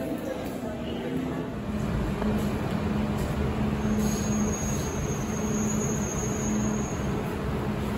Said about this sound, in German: Hier sehen Sie die dubaiische U-Bahn, die ist vollautomatisch